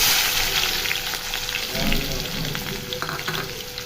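Chopped onions fry with cumin in hot oil, a dense, loud, continuous sizzle with occasional stirring scrapes, for a hotel-style cauliflower fry.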